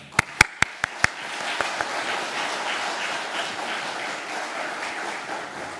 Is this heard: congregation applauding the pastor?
yes